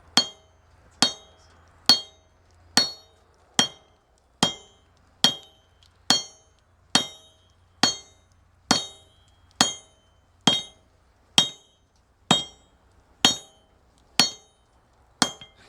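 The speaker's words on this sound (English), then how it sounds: "It's been a while since you swung a hammer, huh?" A blacksmith hammers hot metal on an anvil in a steady, evenly spaced series of about eighteen sharp ringing strikes, each decaying quickly, loud and close with no talk.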